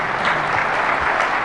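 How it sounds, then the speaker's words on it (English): Dense, steady applause from a conference audience at a DEF CON hacker convention, many hands clapping together at an even, loud level throughout. "I'd like to get a round of applause for the audience"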